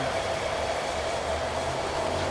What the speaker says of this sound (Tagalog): Oh, yan ang sky train